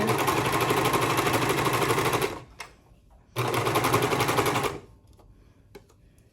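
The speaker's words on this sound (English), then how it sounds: "Just start serging there." A serger overlocker sewing machine stitches fabric in two loud, fast, buzzing runs of a few seconds each, separated by a brief pause and followed by quiet handling.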